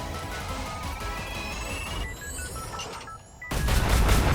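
Gunfire from aircraft strafing runs in the video game Ikarus: a rapid rattle with whining engine tones, a brief lull, then a loud, heavy burst of firing.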